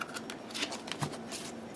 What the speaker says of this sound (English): I'm shuffling in between because I do like a really good shuffle before switching from the same deck